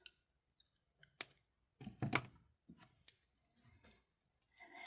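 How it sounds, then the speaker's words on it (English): Wire cutters snip excess wire while a gemstone bracelet is assembled, giving a few sharp, close clicks and snaps among quiet handling sounds, with no talking. "squeeze, and we'll snip off excess"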